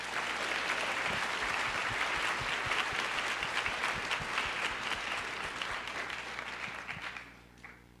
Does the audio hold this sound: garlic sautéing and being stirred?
no